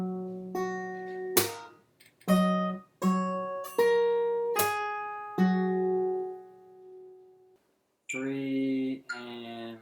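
Fingerstyle guitar plays a slow passage, plucked notes and chords ringing one after another with sharp percussive slaps, a long sustained chord, then a brighter strum near the end.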